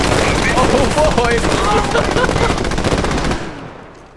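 A DShK heavy machine gun in the video game Squad fires one long, loud, rapid burst of close, continuous rattling shots for over three seconds before stopping abruptly and fading out.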